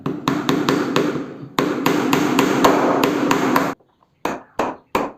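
Hammer tapping small thin nails into a teak veneer panel at a bedroom ceiling, a quick steady run of sharp, loud close taps, a short gap, then three slower separate strikes.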